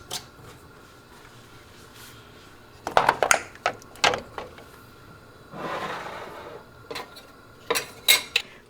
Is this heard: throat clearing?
no